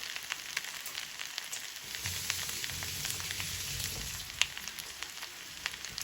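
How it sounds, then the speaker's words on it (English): Seasoned steak fries in butter in a pan, giving a faint, steady sizzle with scattered small crackles and pops and one sharper spatter. "I could hear it sizzling saying, put more butter inside of me."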